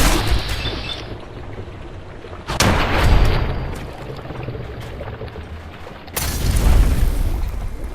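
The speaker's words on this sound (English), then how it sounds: "Give him some covering fire" Loud gunfire and booming blasts in the video game Fallout 4 during a firefight, with two strong bursts over an ongoing rumbling background.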